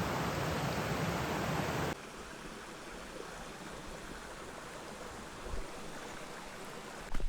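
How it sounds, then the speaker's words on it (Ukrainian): Mountain stream beside a narrow forest trail rushes with a steady broadband hiss, loud at first and then quieter and more distant for the rest, with no talk. "Далі поруч з тою самою річечкою чути, як вона шумить"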